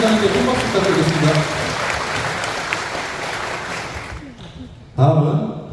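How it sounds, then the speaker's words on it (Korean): Attendees at a residents' briefing on a redevelopment project applaud a chairman after his greeting speech, a broad wash of clapping that fades out near the end before a voice starts speaking. "김 회장님께 큰 박수 부탁드리겠습니다."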